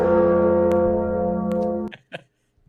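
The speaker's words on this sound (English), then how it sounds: "I love how you have that animated, and I love that bell." A bell chime rings as a livestream donation alert on a call-in talk show: one sustained, ringing tone that holds steady and then cuts off, followed by a few faint clicks.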